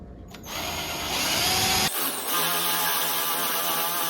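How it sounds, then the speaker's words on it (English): A power drill with a 5/8 drill bit drills into a floor with a loud, close, continuous whine, dipping briefly midway before running steadily again. "This is going to let us know how deep we are going to drill."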